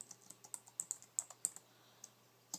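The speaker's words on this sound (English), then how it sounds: "I could type in the name and then I could block them." Quick keystrokes on a computer keyboard, a run of light, close clicks in an irregular rhythm while a name is typed, with no voices.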